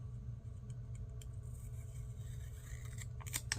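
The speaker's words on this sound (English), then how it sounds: "I'm going to cut it down some." Scissors snip through paper florals in a quiet tabletop setting; a low steady hum runs underneath, with a few faint, crisp cutting clicks near the end.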